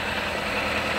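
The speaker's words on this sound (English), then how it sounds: "Good little salvage yard engine." A salvage yard engine newly swapped into a Nissan Cube idles in a steady, dense rumble throughout, loud and close, with no voices over it.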